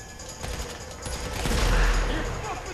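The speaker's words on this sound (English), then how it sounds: "just shoot the oil barrel and then shoot the oil that's coming out of it" Gunfire in Grand Theft Auto V Online, during a Hard Labor mission with an oil barrel set to explode: a rapid burst of shots followed by a heavy low rumble swelling in the middle, with a voice talking over it.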